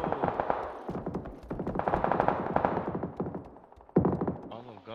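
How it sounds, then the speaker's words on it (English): Bursts of rapid automatic gunfire in a video game crackle through most of the stretch, with a voice talking over parts of it. "All them gunshots to the right"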